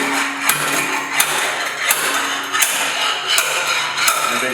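A homemade slide hammer on threaded rod strikes repeatedly to pull the packers from a Bonnot 4 Series extruder, about six sharp metallic knocks evenly spaced roughly every three-quarters of a second over a steady mechanical background.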